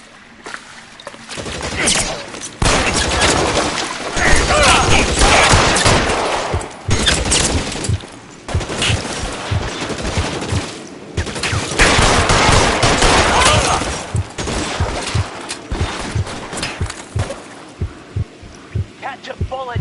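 Gunfire in the 1940s crime video game L.A. Noire: dense, loud bursts of shots and repeated reports across most of the stretch, mixed with engine-like rumble and a shouted voice, with brief lulls between volleys.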